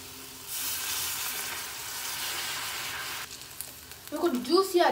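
Masala sizzling loudly in a tawa after a splash of water, for a watermelon tawa fry, a steady broad hiss that then shifts to softer crackling, ending with stirring and a voice speaking.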